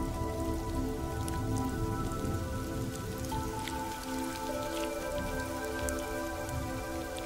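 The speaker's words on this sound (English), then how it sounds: "With rain and the coming of night" Night rain falling steadily on surfaces, a soft, even patter with scattered drips, faint and continuous, with no voices.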